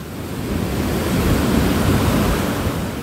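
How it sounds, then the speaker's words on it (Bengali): Big storm waves roar against the coast during Cyclone Remal with gusty wind, forming a loud, steady, unbroken rush of surf and wind noise with no voices. "গর্জন তুলে হুঙ্কার দিচ্ছে বড় বড় ঢেউ"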